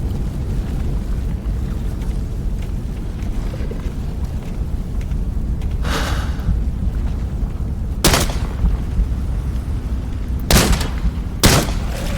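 Four or so sharp, spaced gunshots in Into the Radius 2 crack out over a steady low ambient rumble, with the last few close together.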